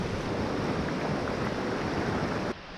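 A waterfall pours down beside a hiking trail, its rushing water a loud, steady broadband roar heard up close throughout, dropping slightly in level near the end with no talking.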